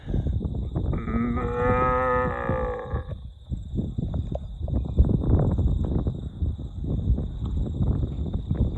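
A cow gives one long, deep, drawn-out moo lasting a couple of seconds, followed by close rustling and handling noise outdoors.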